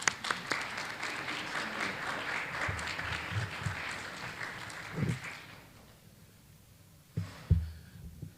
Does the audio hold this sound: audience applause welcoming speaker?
yes